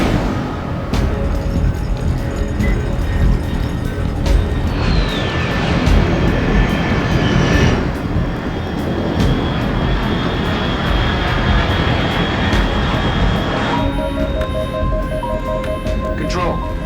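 Aircraft engine drone from the video game Metal Gear Solid Delta: Snake Eater, a loud steady roar passing overhead with shifting whines, running continuously under intermittent game voices.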